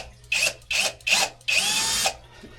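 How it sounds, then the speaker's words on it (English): A power drill drills a small hole in a truck, whirring in four bursts, three short and one longer, close and fairly loud, with quiet pauses between. "Might have to drill a small hole first."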